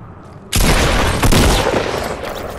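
Heavy shotgun gunfire in a building game: two sharp, loud close blasts about three-quarters of a second apart, each trailing into a rumbling decay.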